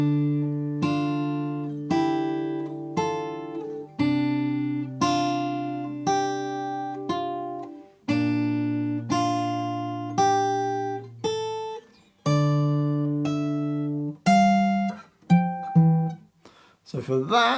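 Slow fingerstyle acoustic guitar line from an Assassin's Creed theme, plucked melody notes ringing over low sustained bass strings, played up close with no other sound.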